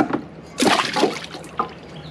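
Coolant sensors dunked into a degreaser bath make a few short, close splashes and sloshes, with a quiet trickle of liquid between the bursts.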